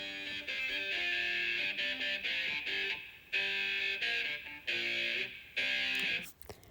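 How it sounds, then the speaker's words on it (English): An electric guitar riff played with distortion and finger picking, loud and close. Repeated phrases drop out into brief gaps before the riff returns. No one speaks. "the guitar riff, which is the hook"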